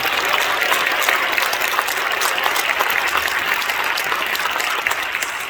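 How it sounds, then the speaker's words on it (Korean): A church congregation claps steadily and warmly for several seconds at a pastor's inauguration, a dense continuous applause that begins to thin out toward the end. "박수 한 번 부탁드립니다"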